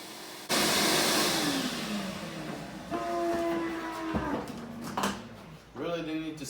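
A vacuum cleaner starts up abruptly and whines steadily while clearing out an aquarium, with someone talking over the motor noise.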